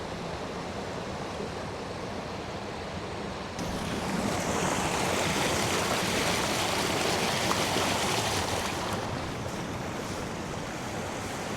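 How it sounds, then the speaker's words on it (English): The East Dart river on Dartmoor rushes over rocks in a steady, dense wash of close water noise that swells louder partway through and never pauses. "I love the sound of water rushing."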